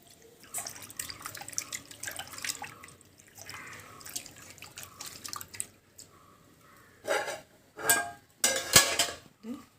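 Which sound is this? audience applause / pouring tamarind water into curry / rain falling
pouring tamarind water into curry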